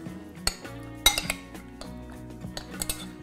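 Grilled shrimp tossed with lime juice in a bowl, with repeated close clinks and clatters of utensils against the dish in an uneven rhythm.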